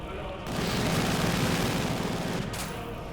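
A heavy machine gun fires in the WWII strategy game Company of Heroes 2, a sustained loud burst of automatic fire with battle noise, lasting a few seconds, then tapering off.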